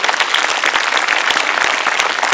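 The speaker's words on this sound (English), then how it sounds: "Please join me in applause and appreciation for Mr. Everett." A school Veterans Day celebration audience claps in dense, loud applause that fills the room, a continuous wash of many hands without pauses.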